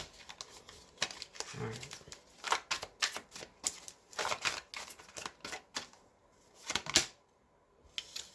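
Tarot cards shuffle in quick, soft riffling and flapping bursts with taps and slaps of cards, close and fairly quiet, broken by brief pauses and a few words from a voice.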